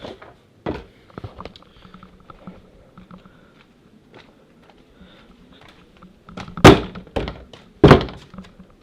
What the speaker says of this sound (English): going to check on Sean Hugh Fertilowski, knock on his door